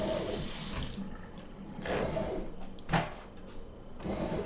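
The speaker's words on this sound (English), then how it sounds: "let's wash my hands off a little bit here." Tap water runs in a steady hiss while hands are washed during bread making. Splashes and soft knocks come through it, and the hiss fades toward the end.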